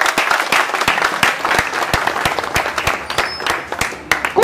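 Audience applause breaks out at a political rally in the Trinagar area, a dense steady patter of many hands clapping close up, sustained and fairly loud throughout without pause.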